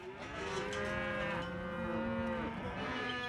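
Cattle being rounded up into an enclosure in the remote Australian outback, several overlapping drawn-out moos from a herd, moderately near and continuous, with no talking.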